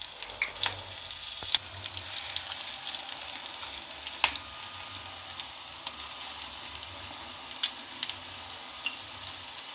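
Green chillies for mirchi bajji fry in hot oil, a continuous bubbling sizzle with scattered sharp pops and crackles, moderately loud and close, with no voices.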